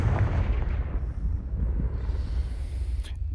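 A Confringo blasting spell explodes in Hogwarts Legacy: a sustained, heavy low rumble with a blast-like roar that rolls on steadily throughout, loud and close, with no talk over it.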